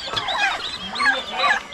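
Turkey chicks and other farmyard fowl peeping in short, high, rising chirps repeated in quick bursts, close and fairly loud, with no talk over them.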